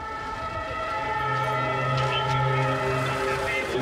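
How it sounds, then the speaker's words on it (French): Fire engine sirens wail steadily in the Bataclan neighborhood of Paris at night, a sustained layered tone held close and loud throughout. "remplacées par les sirènes des voitures de pompiers"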